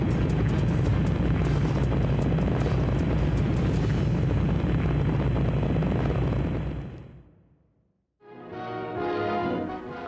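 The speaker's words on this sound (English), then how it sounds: "Liftoff. We have a liftoff." Rocket liftoff: a loud, sustained broadband roar that fills the first seven seconds, then fades to near silence before a brief band of tonal sound returns.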